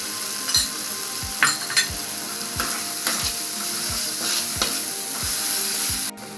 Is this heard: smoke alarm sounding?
no